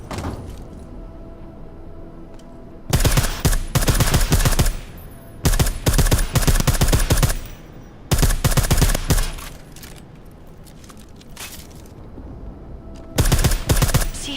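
Silenced gunfire from the video game Deus Ex: Mankind Divided, rendered as loud rapid bursts of suppressed shots in several separate volleys with quieter gaps between them, and no talking.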